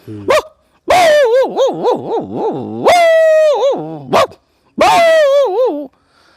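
A voice imitates dogs barking, several quick yelping barks in bursts with short pauses between, loud and close.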